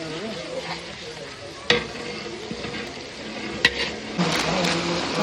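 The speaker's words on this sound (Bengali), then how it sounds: "জিরা ভাজা গেল, জিরা ভাজা।" Cumin seeds fry in oil with dried red chilies and bay leaves for rice khichuri, a steady close sizzle broken by sharp utensil clicks and stirring scrapes, with faint voices underneath.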